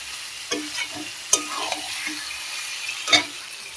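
Chicken being stirred in a pan with salt, turmeric and chilli powder, giving a few scraping spoon strokes over a soft, steady sizzle, close and fairly quiet with no talk.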